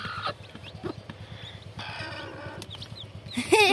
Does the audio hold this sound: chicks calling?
yes